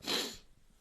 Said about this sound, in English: where are the sniffles coming in?